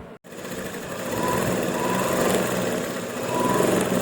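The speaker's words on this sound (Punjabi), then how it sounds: "ਥੋੜੀ ਬਾਹਰ ਆ ਕੇ ਮਸ਼ੀਨ ਘਮਾਇਆ ਕਰੋ ਤਾਂ ਕਿ ਧਾਗੇ ਨੂੰ ਬਟਾ ਚੜ ਜਵੇ" A sewing machine runs steadily while stitching a kameez, giving a close, even motor hum and rattle that starts after a brief gap and holds without a break to the end.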